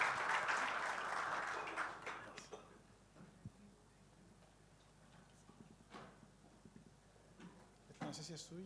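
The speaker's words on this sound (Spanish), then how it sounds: "pido un aplauso para el alcalde" An audience at an international district energy conference applauds for a mayor, a burst of clapping that quickly dies away, leaving scattered sounds and a short voice before a few claps return.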